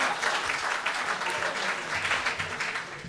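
A studio audience at a late-night show breaks into applause, a dense, even burst of clapping that stays strong and fills the whole moment.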